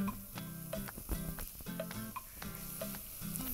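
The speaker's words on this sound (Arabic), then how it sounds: "هنا نجي نضيف الدجاج ونخليه يطيب مع البصل" Thin-sliced chicken fries with onion in a pan for a chicken quiche filling, a quiet steady sizzle with rhythmic clinks and scrapes of stirring close by.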